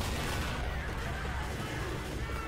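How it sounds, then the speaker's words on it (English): A pipe bomb goes off in the Xbox 360 game Left 4 Dead, filling the clip with a dense, continuous roar of blasts and gunfire-like crackle that stays loud and close for its full length. "here I'm going to throw the pipe bomb and see what happens"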